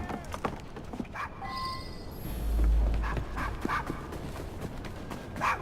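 A dog barks and whimpers a few times in Assassin's Creed Syndicate, set against a busy background of clopping hooves and street ambience, with faint voices mixed in.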